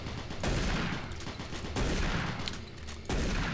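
Repeated shotgun blasts in the first-person shooter Doom 3, loud and close, with three heavy booms spaced about a second and a half apart, each followed by a dense, decaying rumble that fills the gaps between shots.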